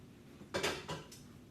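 Steak being cut up during meal prep, with three short clinks of a knife and cutlery against a plate, close and fairly quiet over a hushed kitchen background.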